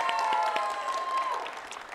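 A church congregation at a worship service breaks into brief applause, a dense wash of clapping with a sustained tone running beneath it, tapering off toward the end.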